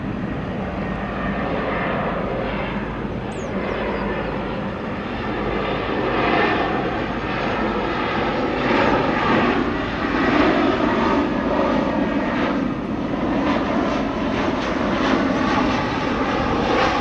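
A Vietjet Air airliner, a green Freebird-leased jet with Turkish registration TC-FHK, roars with a steady, loud engine drone that builds slightly toward the middle and holds throughout with no talk.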